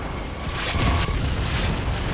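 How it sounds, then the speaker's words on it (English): A mortar shell explodes in Gears of War 3, a loud, sustained low boom that rumbles across the whole moment with a rough, noisy wash of debris on top. "Mortar!"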